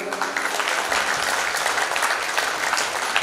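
A crowd at a Punjabi religious gathering claps in loud, sustained applause, dense and even throughout, heard alone without speech.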